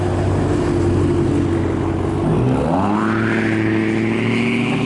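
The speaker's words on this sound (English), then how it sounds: "buses, vehicles, and then the morons with the loud mufflers" A vehicle with a loud muffler passes on a busy workday street among buses and traffic, its engine drone rising and revving sharply after a dip, loud and near throughout.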